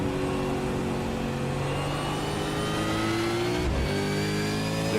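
A V8 Supercar in a sim racing game at Circuit de Barcelona-Catalunya accelerates with a continuous loud engine whine climbing in pitch, briefly dipping at a gear change before rising again.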